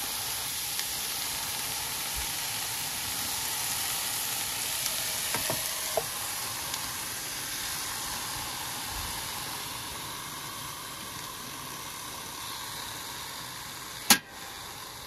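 A shank steak sizzles and fries steadily in its own rendered fat, a continuous crackling hiss with scattered pops, holding an even level throughout before one sharp clack near the end.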